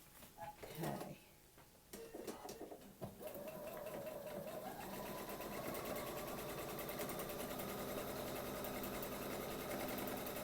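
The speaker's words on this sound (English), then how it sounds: "And we can just stitch that right off." A sewing machine runs steadily as it stitches a paper-pieced house quilt block, beginning with a few short bursts and handling sounds and then settling into a continuous, close, even mechanical whir that holds to the end.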